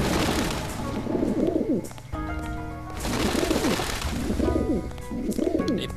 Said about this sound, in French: Les pigeons sont aussi nombreux en Chine.